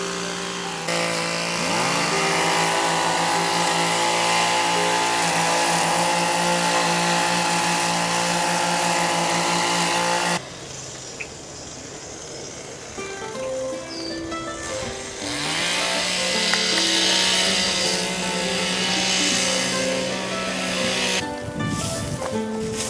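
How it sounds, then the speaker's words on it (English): Gas-powered string trimmers cutting back dense vegetation along a narrow hiking trail at Gulf Islands National Seashore, a loud steady engine whine running throughout, pitch shifting and dropping briefly midway before revving again. "we also had gas-powered trimmers, which allowed us to accomplish even more work."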